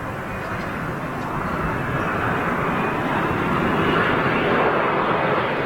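Air Transat Airbus A321neo at Manchester Airport, a steady broadband jet roar that builds gradually at middling distance with no voices.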